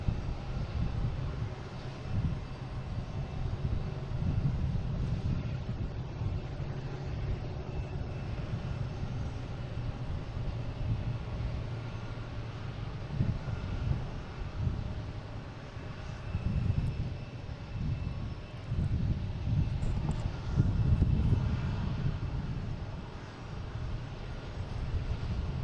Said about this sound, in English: Air Portugal taking off. Heading to Lisbon in A321neo.